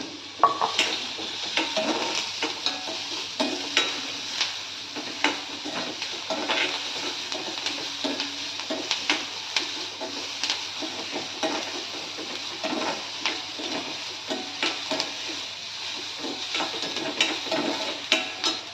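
Pasta frying with curry leaves in a pan, a steady low sizzle under frequent light scraping and stirring strokes that keep going throughout, close and moderately loud with no talking.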